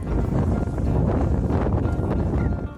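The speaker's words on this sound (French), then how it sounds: "Ce qui déjà est beaucoup plus fou, c'était le vent qu'il y avait en sortant dans la forêt." Strong wind gusting through a snowy forest, a steady, loud broadband roar with buffeting that fills the whole clip and keeps up without a break.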